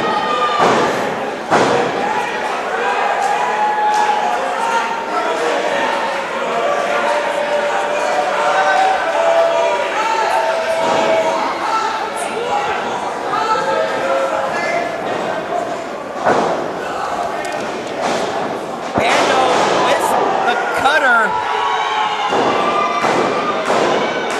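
Thuds and slams ring out as a pro wrestler's head is driven into the mat at a live wrestling show, the impacts landing amid a loud, cheering crowd with a commentator talking throughout.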